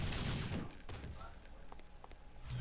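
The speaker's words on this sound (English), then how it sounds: "See how fast our guns are shooting?" Rapid gunfire from guns in Devil May Cry 2, a dense rattling volley loudest at the start and fading into a busier, softer mix of shots, with speech-like voices present underneath.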